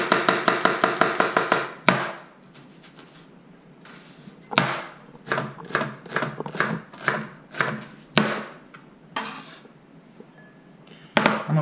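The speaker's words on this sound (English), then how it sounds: "Let's cut this onion." A kitchen knife chops an onion on a board, first in a quick run of even taps, then in sharper, spaced knocks and uneven bursts, close and clear with no talk.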